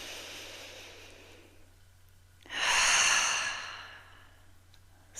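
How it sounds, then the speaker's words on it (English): A slow, deep breath, drawn in softly then released as a louder, airy exhale, close and alone in a quiet room. "Join me in a nice deep breath"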